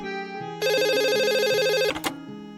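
A loud telephone ringtone sound effect plays as a single sustained electronic ring lasting over a second, then cuts off abruptly, with soft tonal notes before and after it.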